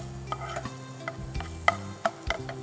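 Onions frying in a small amount of ghee, stirred in a pan, with a low steady sizzle and scattered sharp spatula clicks and scrapes.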